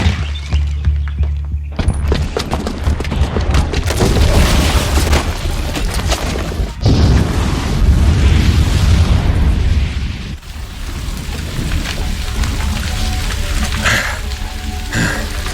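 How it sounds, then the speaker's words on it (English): A bomb's booby trap goes off in Horizon Zero Dawn with a loud, sustained blast, and a dense roar of debris and rumble fills the whole stretch at close range, shifting in intensity without pause. "the booby trap on the bomb downstairs is gonna get set off"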